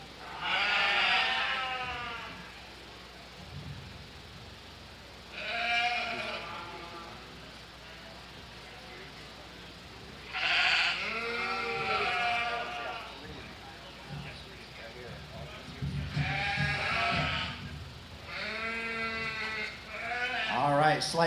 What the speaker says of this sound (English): And Michael Gonerman has 2 sheep out there today.